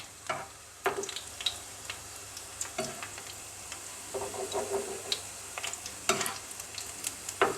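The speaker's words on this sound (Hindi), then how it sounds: "और जब ये एक साइड से फ्राई हो जाएंगे तो हमने इनकी साइड चेंज कर देनी है।" Mashed-potato spiral fries frying in oil over low heat: a steady close sizzle with scattered sharp pops and crackles, and a few louder clicks and taps through the middle.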